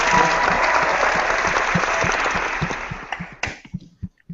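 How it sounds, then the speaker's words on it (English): A TV studio audience applauds as a dense burst of clapping, loud at first, then thins into scattered individual claps and fades to quiet. "let's clap for our audience right now"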